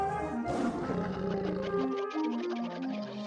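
Cartoon lions roaring in an animated children's story about animals playing cricket at a zoo, a short burst of roaring and growling voices over a musical backing, no talking.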